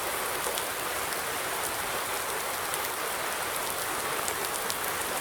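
Steady, dense rain falls in the video game Farming Simulator 19, a constant loud wash with no breaks and no voices.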